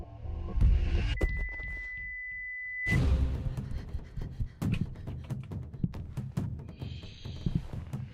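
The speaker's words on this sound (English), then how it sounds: "please leave a message after the beep" A voicemail beep in a video game sounds as one steady electronic tone held for nearly two seconds, clear and alone, framed by busy, clattering background noise before and after.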